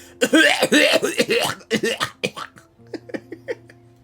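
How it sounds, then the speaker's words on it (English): A Genshin Impact character coughs and sputters repeatedly after swallowing water, loud choking coughs in quick bursts, followed by softer short coughs over a low hum. "she swallowed the water again and that cough again."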